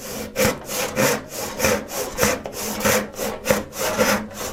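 A hand saw cuts through a wooden board in steady back-and-forth strokes, each rasping pass close and clear, about ten strokes in a regular rhythm.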